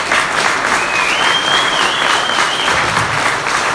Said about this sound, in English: Guys, round of applause for those sponsors.